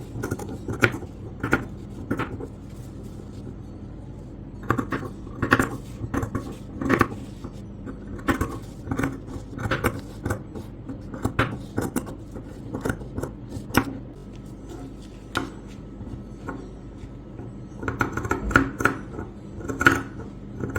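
Sharp scissors snipping through fabric while cutting a keyhole neckline, a series of close, crisp cuts in irregular bursts with short pauses between, alone without talk.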